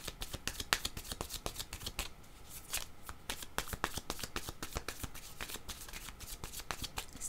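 Tarot cards shuffled in a steady run of crisp riffling snaps, close and fairly loud, continuing without pause and with no voices.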